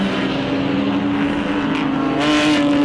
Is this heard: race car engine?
yes